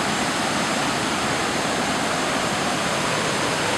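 Floodwater from torrential rain after Tropical Storm Katia rushing swiftly over a washed-out trail beside a lake and dam in Jefferson Township, New Jersey, a loud, steady, broadband roar close by, with no voices.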